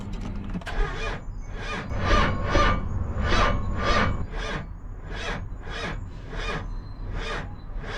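A starter cranks an old Dodge diesel engine pulled from an auction, in repeated slow grinding turns with an uneven rhythm and short gaps, heard close and fairly loud.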